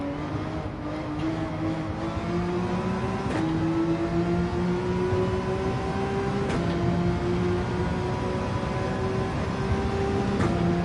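Mazda 787B race car in Gran Turismo 7 holding a steady, high engine drone with a rising pitch across the whole stretch, loud and continuous, with a few brief clicks.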